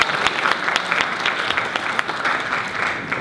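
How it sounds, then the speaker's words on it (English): Audience at a Bankstown Sports Club speaking event breaks into a steady round of applause, dense clapping sustained evenly throughout with no talk over it. "Big round of applause."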